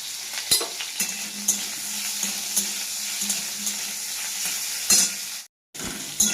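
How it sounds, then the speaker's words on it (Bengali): Drumstick pieces seasoned with salt and turmeric fry in oil in a wok, a steady close sizzle broken by stirring clinks and scrapes, with a short silent gap near the end. "দেখো ডাঁটাগুলো আমার ভাজা হয়ে গেছে, বেশি ভাজলে হবে না, হালকা করে একটু ভেজে নিয়েছি।"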